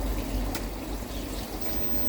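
Tap water runs in a steady, continuous hiss and splash at close range, filling the whole stretch without pause and with no voices over it.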